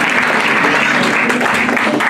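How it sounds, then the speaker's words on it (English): A church congregation claps hands together in a loud, continuous wash of sound during a worship service, with faint voices mixed in underneath. "You may be seated and clap your hands"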